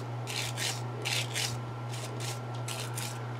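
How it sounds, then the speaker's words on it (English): Short rasping strokes of a sanding stick on plastic, repeated in quick bursts of about two at a time, close up over a low steady hum. "I'm just going to hit it with a sanding stick here"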